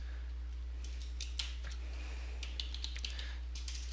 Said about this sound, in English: I can't type right now